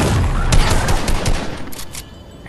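Rapid bursts of gunfire aimed at the player in a shooter game, a loud clattering volley of close shots in quick succession that thins out toward the end, with no talking.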